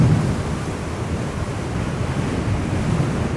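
Strong wind noise buffeting the microphone while riding an Extreme Bull GT Pro Plus electric unicycle at around 40, a loud, steady low roar with no talking.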